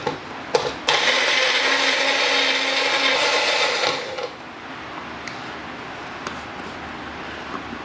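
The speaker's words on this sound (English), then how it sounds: "let's put our lid on, and we'll give this a nice puree" A blender purees a spicy miso sauce with pepper and water, a loud steady whirring for about three seconds after a few clicks, then winding down to a quieter rattle and faint clunks.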